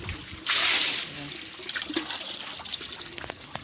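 Weak trickle of water from a tap during the dry season on a rural farm, a brief louder gush followed by a thin, uneven dribble with faint background noise.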